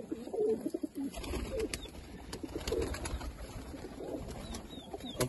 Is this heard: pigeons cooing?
yes